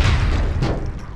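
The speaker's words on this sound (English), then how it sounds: "Oh, grenade!" Grenade explosion in the video game APB Reloaded, a heavy booming blast with a rumbling low tail that decays over about a second.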